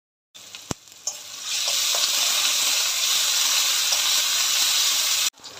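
Crushed ginger and garlic dropped into hot oil with fresh curry leaves for chicken chukka, a couple of sharp clinks and then a loud, steady sizzle that holds until it stops abruptly.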